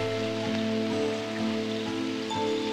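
Steady rain falls in an animated Moomin scene, a soft continuous patter on surfaces with a faint tonal hum under it.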